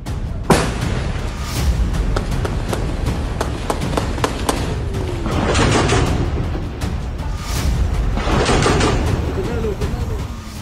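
Bomb explosions and gunfire boom and crack in rapid bursts, several heavy thuds and sharp shots repeating over ten seconds amid a dense rumble, with a voice speaking over the din.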